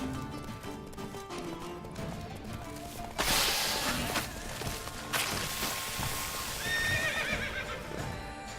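A horse in the video game The Witcher 3 neighs and whinnies close by, with hooves clip-clopping in a steady rhythm underneath and a sharp burst of rustling movement partway through, all fairly loud against a busy game soundscape.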